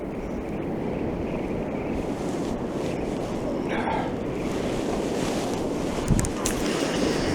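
Strong wind blowing across a beach while sea fishing, a loud constant rushing buffet on the microphone with surf in the background and a brief knock near the end.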